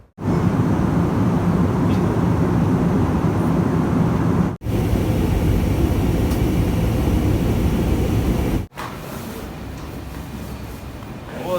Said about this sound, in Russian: Вот аэропорт Домодедово имени Ломоносова.